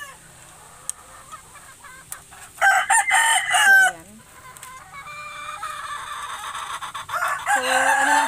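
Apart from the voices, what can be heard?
chickens and roosters crowing in a breeding pen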